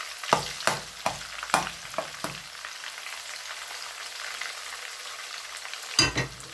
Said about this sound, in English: We're not going to fry the onion until it's golden brown.